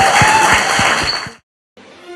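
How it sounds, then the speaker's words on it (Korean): Audience applause for a Korean talk-show guest, a dense burst of clapping lasting just over a second before cutting to silence, then a faint continuation. "박수 부탁드립니다."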